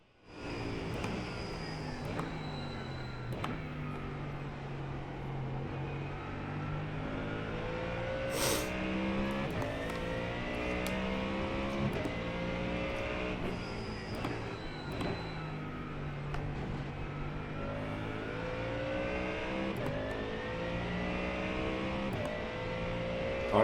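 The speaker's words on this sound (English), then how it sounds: "natural sounds of the racing of the Mustang" A Mustang GT3 races around Daytona in iRacing, its engine roaring continuously through repeated gear changes and revving surges, with other cars audible nearby throughout.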